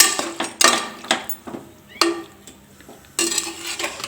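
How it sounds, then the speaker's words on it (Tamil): A spoon scrapes and clanks against a pan as chicken is stirred and sautéed with ginger garlic paste for country chicken broth, giving repeated close metallic scrapes in irregular bursts with a faint sizzle beneath. "இப்போ இந்த கறியை நல்லா கொஞ்சம் பரட்டி எடுத்துக்கலாங்க"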